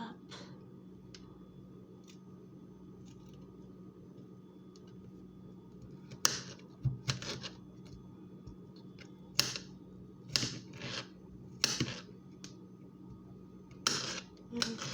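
Knife cutting up vegetables for a chicken and mushroom carbonara, soft close chopping taps on a board in irregular bursts, over a low steady kitchen hum.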